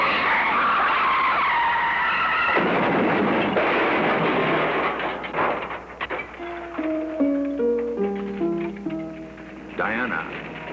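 Tires screech loudly as a car skids out of control on a highway, a long harsh squeal followed by rattling and a rough sliding clatter.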